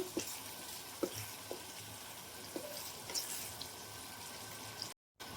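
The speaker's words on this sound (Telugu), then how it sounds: "ఫ్రై చేసుకున్న ఎగ్స్ అనేటివి ఇప్పుడు యాడ్ చేసుకున్నాము ఒకసారి బాగా కలిపేసుకోవాలి" Fried eggs being stirred into a spicy egg curry in a pan, with a steady low sizzle and several soft spoon scrapes and taps against the pan, close and without talk.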